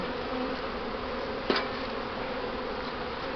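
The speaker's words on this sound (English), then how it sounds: "Let's smoke these other bees down again." Honeybees buzz steadily during a hive inspection, a dense, even drone close by with a single sharp tap partway through and no voices.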